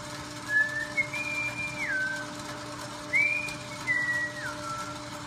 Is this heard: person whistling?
yes